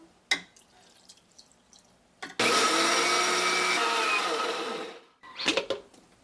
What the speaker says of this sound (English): Next, I'll grind the white rice that I had soaked also for about 5 hours, the long grain basmati rice